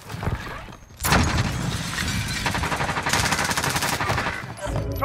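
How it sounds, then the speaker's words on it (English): Sustained automatic gunfire from a Call of Duty: Modern Warfare firefight, loud and close, with dense rapid bursts running almost continuously after a brief lull near the start. "I am under fire."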